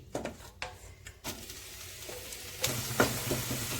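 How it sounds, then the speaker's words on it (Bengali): Boiled, drained radish greens hit a hot wok and fry with a sudden sizzle, followed by clattering stirring strokes and a louder burst of sizzling near the end, close and without talk. "এবার ভেজে নেওয়ার জন্য কড়াইতে দিয়ে দিচ্ছি।"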